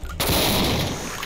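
Dense, loud gunfire from the video game Project Brutality played on the BTSX map set, bursting in abruptly after a brief quiet moment and roaring on as a continuous barrage of shots.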